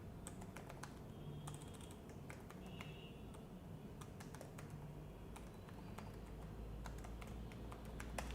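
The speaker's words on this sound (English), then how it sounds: "I'll just type here something tutorials point." Steady typing on a computer keyboard while entering text into an Excel spreadsheet: quiet, rapid key clicks in uneven bursts, close by in a calm room, with no voices.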